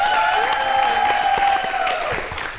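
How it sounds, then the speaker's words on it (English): An audience claps for the guests at the close of a live show, a steady wash of applause sitting under sustained musical tones that fade slightly toward the end. "Can we please have a round of applause for them,"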